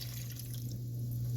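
A cup of water poured into a pot of thick tomato sauce, a soft, steady trickle under a low electrical hum.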